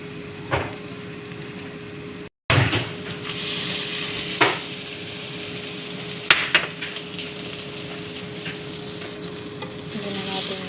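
Butter sizzling and frying in a pan while Egyptian food is cooked, a loud continuous close-up hiss with occasional scrapes and clinks of stirring.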